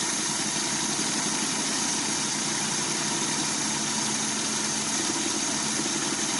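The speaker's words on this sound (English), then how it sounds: "Then I'll increase the speed on the lathe a little bit, and I use a very thin strip of sandpaper so I don't touch the ferrule." A spinning lathe as thin strips of fine sandpaper are worked over a pool cue tip, giving a loud, constant motor hum with a broad whirring hiss that holds steady throughout.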